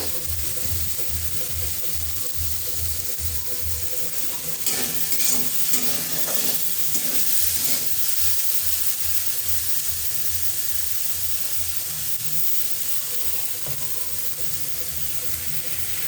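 Bottle gourd peel fries in oil in a pan on low heat, a continuous soft sizzle with stirring and scraping from a spatula, close and steady without speech.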